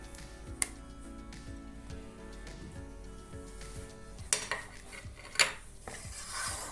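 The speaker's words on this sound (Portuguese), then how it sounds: "Vamos mexer bem aqui." Spoon stirring a no-cook coconut candy mixture with margarine in a bowl, a steady run of soft scraping strokes with a few sharp clinks against the dish, close and quiet with no talk.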